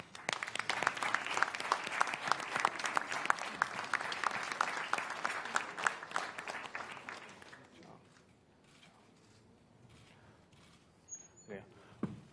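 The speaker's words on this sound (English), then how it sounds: "a big round of applause for Ken, Terada-san, and Davide" A crowd at the 2017 Team Suzuki Ecstar MotoGP launch applauds loudly and densely for several seconds, then the clapping fades into quieter room noise with a few faint shuffles and knocks.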